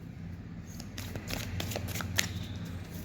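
Tarot cards shuffled by hand at close range, a quiet run of soft riffling flicks and slaps with one sharper snap near the end, over a low steady background hum.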